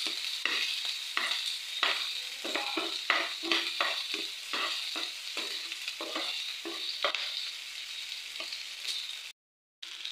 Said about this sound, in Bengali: আমার পেঁয়াজগুলো ভাজা হয়েছে